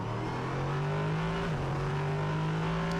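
Prototype race cars circulate the Hockenheimring circuit during a Prototype Cup Germany race, their engines roaring in a continuous loud drone. A pitch shift midway suggests one car passing close by.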